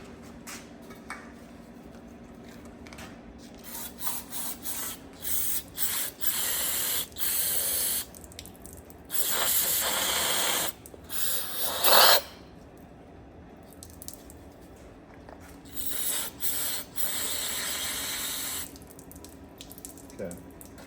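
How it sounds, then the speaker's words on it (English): Several short hissing bursts of brake cleaner spray on a Dodge Charger's brakes, close by, separated by pauses, with one longer burst in the middle. "I might try to take some brake clean spray in there."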